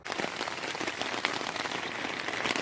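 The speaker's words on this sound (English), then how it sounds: "Just waiting out the rain." Rain falling in the woods, a dense, steady patter of drops hitting leaves and surfaces, even and continuous throughout, fairly soft with no voices.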